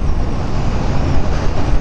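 A 2015 Yamaha FZ-07 without a slipper clutch shifts gear without matched revs, heard as a steady, loud engine and wind roar with a faint lurch buried in the rumble, close and continuous.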